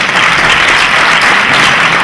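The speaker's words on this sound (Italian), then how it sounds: "Grazie, un grosso applauso." Audience applause fills the hall at a Neapolitan variety show, a dense, steady clapping that holds at full loudness without a break and with no voices rising above it.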